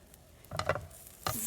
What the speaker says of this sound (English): See if it's all sizzling and has the steam coming up right now.